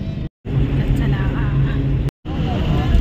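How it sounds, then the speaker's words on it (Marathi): A tourist bus drives through Pokhara, its steady engine rumble and road noise close and continuous, broken twice by brief drops to silence. "चला आपली बस चालली"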